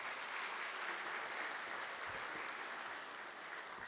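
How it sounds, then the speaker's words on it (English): Steady applause from an audience at a university N-Club Hall of Fame induction ceremony, honoring former athletes, sustained and even throughout with a few sharper claps standing out near the end. "So let's give a round of applause for everybody."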